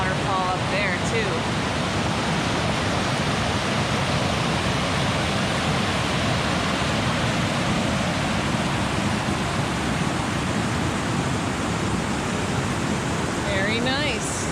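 Water pours at a waterfall on Bemis Brook Trail, a dense, constant rushing roar heard up close and loud, with brief talking faintly at the start and end.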